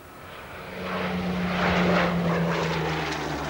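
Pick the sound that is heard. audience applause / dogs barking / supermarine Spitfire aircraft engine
supermarine Spitfire aircraft engine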